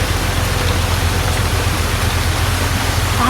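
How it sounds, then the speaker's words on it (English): Heavy rain pours down outside on a rainy day, a loud, dense, unbroken hiss of water with no pauses and no voices. "it's raining even harder"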